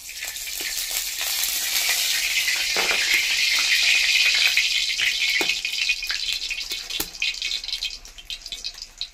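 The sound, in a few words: Fortune sunflower oil heating and sizzling in a kadai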